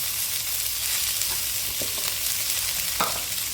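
Ivy gourd fries in a pan with a steady broadband sizzle, broken by a few soft stirring scrapes; no talking.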